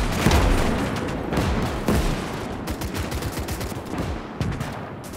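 Dense gunfire in the World War II game Gates of Hell multiplayer, rapid overlapping rifle and machine-gun bursts with booms near a T-34 tank, loud and continuous throughout with no break.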